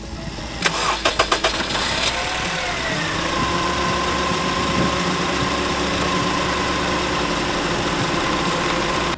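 A car engine cranks with a few rapid starter bursts, catches and settles into a steady, loud idle, with the air conditioning left switched on from before the engine was shut off.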